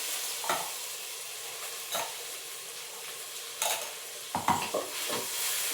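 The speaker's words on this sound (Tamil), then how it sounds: "வெங்காயம் நல்லா வதங்கிட்டு இருக்கு. இப்போ நம்ம கொஞ்சம் இஞ்சி பூண்டு பேஸ்ட் போட்டுடலாம்." Onions sautéing in a pan with ginger garlic paste, a steady low sizzle and hiss broken by several short scraping stirs of a spoon against the pan, with no voices.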